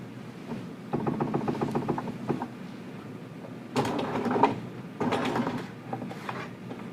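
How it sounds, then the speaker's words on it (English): A home sewing machine stitching overlapped elastic ends for a jogger waistband, running in short bursts of rapid mechanical clatter separated by quieter pauses, close and fairly soft. "So we'll come back to the sewing machine and we'll sew that elastic together."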